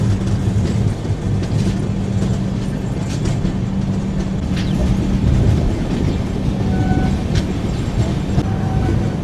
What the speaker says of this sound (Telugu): రేణిగుంట జంక్షన్ వెళ్ళేటప్పుడు కరువు తీసుకుంటుంది మన ట్రైన్